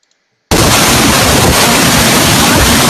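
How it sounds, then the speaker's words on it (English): After a half-second of silence, a loud, roaring rush of hurricane-force wind gusts from a hurricane's outer feeder bands buffets the microphone continuously with steady, dense noise. "the outer feeder bands coming in with the hurricane force wind gusts"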